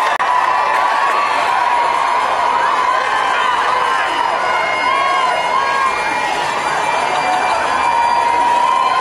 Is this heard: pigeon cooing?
no